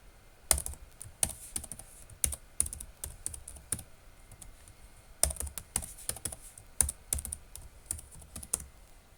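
A password is typed on a computer keyboard in quick bursts of soft, close clicks separated by short pauses, with no talking over them.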